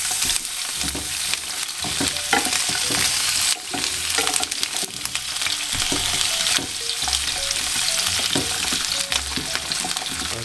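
Frozen Swedish meatballs frying in a hot pan, a loud continuous crackling sizzle with scraping and rattling as they are moved around, close up.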